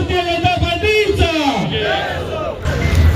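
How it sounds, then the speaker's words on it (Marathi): A crowd at the opening of a BJP party office in Harsul cheers and shouts together in loud, rising and falling collective cries, close by and filling the whole moment. "सर्वांना जोरदार टाळ्या साहेबांचं स्वागत"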